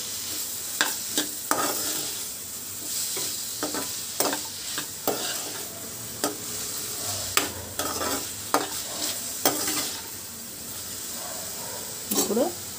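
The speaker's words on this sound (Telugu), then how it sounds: "వీటన్నిటిని ఒకసారి కలుపుతున్నామండి." Ridge gourd chutney with salt and tamarind being stirred in a pan, a spoon scraping and clicking repeatedly over a low sizzle; occasional faint talk.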